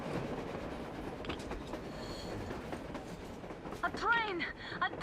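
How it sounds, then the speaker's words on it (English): Train rolling past on the surface in the video game Metro Exodus, a rumbling clatter of wagons with metallic wheel squeals growing louder toward the end, with faint talk underneath. "Tô vendo um trem andar."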